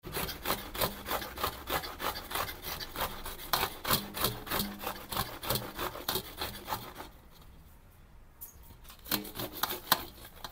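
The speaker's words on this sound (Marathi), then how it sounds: "एक कैरी अख्खी किसायला लागती." Rhythmic rasping strokes of a whole raw green mango being rubbed against a grater, steady and close, pausing briefly before the scraping resumes.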